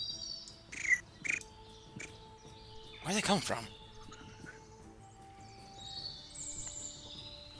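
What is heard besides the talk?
birds chirping, ambient sound in a tabletop game session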